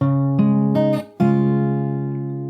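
Fingerstyle acoustic guitar picks out a phrase of the Animal Crossing New Horizons theme, a few plucked notes and chords ringing clearly and sustaining between attacks, close and alone.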